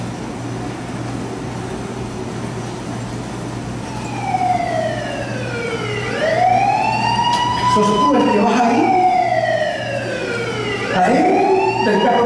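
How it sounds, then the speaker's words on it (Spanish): An emergency vehicle siren wails in rising and falling sweeps over a steady engine hum, loud and close, while someone speaks briefly partway through. "La sirena, poneme por favor."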